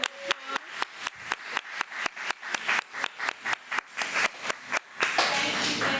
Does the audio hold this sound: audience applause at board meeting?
yes